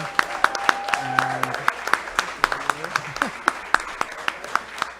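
Sparse, scattered clapping from a small audience at a public event honouring local school principals. Distinct individual claps ring out at an uneven rhythm while someone speaks in the background.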